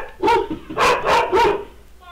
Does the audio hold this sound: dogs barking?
yes